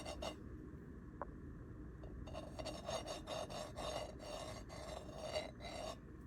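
A fingertip drags across the textured hexagonal steel-and-nonstick surface of a HexClad frying pan, making a faint, rhythmic bumpy rasp in a series of short strokes with no talking.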